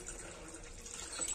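Hot water pours steadily into a vessel in a home kitchen, giving a soft continuous splashing hiss at close range with no talk over it.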